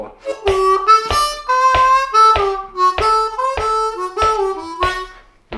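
Harmonica plays the second lick of a tune over the four chord, a run of about nine punchy, evenly spaced chordal hits with sliding bends, close and clear with no talking.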